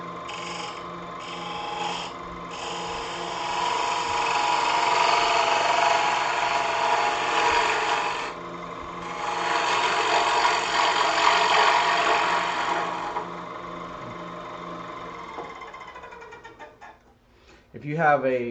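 A lathe tool cuts and undercuts the inside of a spinning bowl. A steady, loud motor hum runs under rough, broadband cutting noise, with a short lull near the middle and a fade toward the end.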